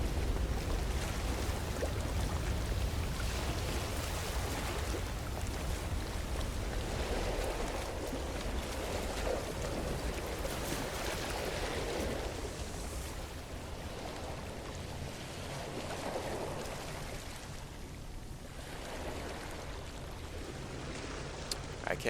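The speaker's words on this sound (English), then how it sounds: "the ability to not need to yell over the waves. It's so loud." Steady, loud ocean surf rolls and washes continuously on a radioactive alien world in No Man's Sky, a broad roaring wash with gentle swells and no talk over it.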